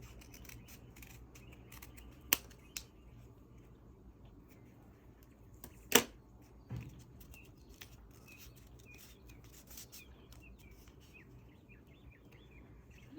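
Scissors snip through a cardboard toilet paper roll during an upcycling craft, giving a few sharp isolated cuts, one clearly louder, over a quiet room.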